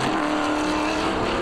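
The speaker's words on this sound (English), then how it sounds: "Listen to your race leader feather that throttle on corner exit, not abusing those rear tires too much" A NASCAR Pinty's Series stock car accelerates out of a corner in a 2016 race, its engine a loud continuous roar with the throttle feathered, heard at close range without talk.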